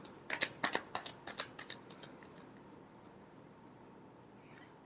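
Tarot cards being shuffled close up: a quick riffle of about a dozen sharp papery slaps over two seconds, followed by quiet and a faint rustle at the end.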